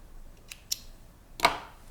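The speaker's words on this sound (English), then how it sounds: "So I'm gonna trim it so it doesn't get bulky inside when I flip this inside out." Scissors snip through the fabric edges of a tote bag being sewn, a few faint light cuts and then one sharper, louder snip near the end, with no talk.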